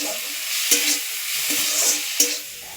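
Prawns fry in a karai with a steady bright sizzle, broken by a few quick stirring scrapes and soft clatters, close and loud with no voices.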